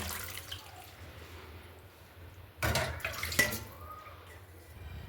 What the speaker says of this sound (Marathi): मस्त तीन चार पाण्याने धुवून घ्यायची आहे बघा तीन पाण्याने धुतली तरी पण माटी माटी निघत होती